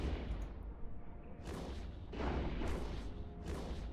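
Enemy tanks firing at the player in a tank battle video game, several heavy booming shots and impacts arriving in bursts amid continuous rumbling game noise.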